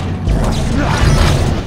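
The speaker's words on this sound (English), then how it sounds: "You know these rivet guns pack a punch." Rivet gun firing in the sci-fi horror game Dead Space Extraction, a loud, dense mechanical burst with clanking, ratcheting texture that fills the short moment without pause.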